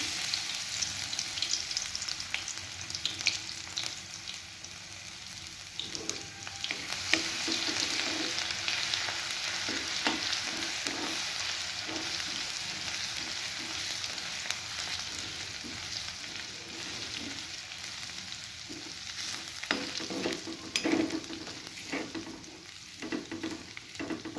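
Ginger and garlic sizzle steadily in hot oil for homemade pav bhaji, a dense continuous crackle with soft scraping stir sounds and occasional louder pops, close up and with no talking.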